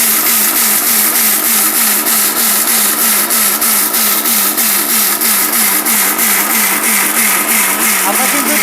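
A powerful electric blender whirs loudly and steadily while making juice, its motor drone pulsing rapidly and evenly with no break from start to finish.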